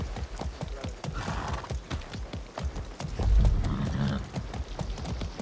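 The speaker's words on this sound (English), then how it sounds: "That's a good horse." Horse hooves clip-clop in a quick, steady rhythm with a neigh partway through, all from Far Cry 6 gameplay, close and clear under game ambience.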